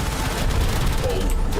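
Guns fire at a cruise ship in the video game Warframe, a dense continuous barrage of rapid shots and booms, loud and close throughout.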